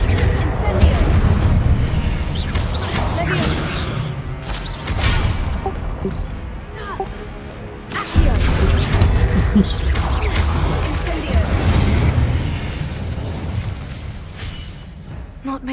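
Spell explosions boom and burst in the Hogwarts Legacy video game, repeated heavy blasts over a dense rumbling battle mix, with a voice calling out over the action.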